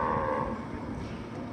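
A Brahman cow lows at a cattle show, one drawn-out moo at the start that fades into steady arena noise and murmur.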